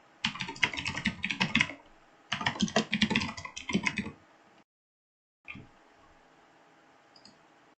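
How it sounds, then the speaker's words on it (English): A password is tapped out on a computer keyboard in two quick, dense bursts of clicking keys, then a pause and a few lighter clicks, up close with no speech. "Let's type ABCDEF."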